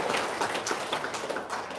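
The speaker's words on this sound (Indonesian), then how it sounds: "Tepuk tangan dong." Applause from an audience at a motivational seminar: brief, dense patter of many hands clapping, fairly loud and continuous for under two seconds, with no voices over it.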